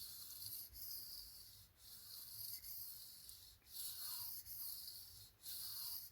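Freehand sharpening of a tanto knife, soft close rasping strokes repeating in a steady uniform rhythm, each stroke separated by a short pause.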